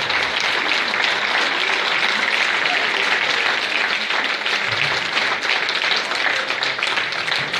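Sustained audience applause from a royal wind band concert in Gerpinnes, a dense steady wash of many hands clapping, fairly loud and even throughout with no voices standing out.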